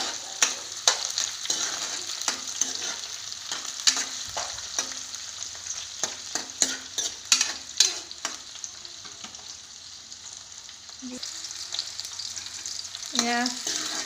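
Onions and chillies fry in hot oil with a constant crackling sizzle, punctuated by frequent sharp clacks and scrapes of a spoon stirring the pan, close and fairly loud.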